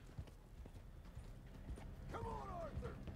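Horse galloping in Red Dead Redemption 2, with steady hoof clip-clop under low background rumble and a brief whinny-like call near the end, fairly faint overall.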